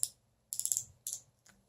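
Crisp clicks from a retractable eraser pen, with four separate bursts of plastic clicking and short rattly runs. They are close and fairly quiet against a low background hum.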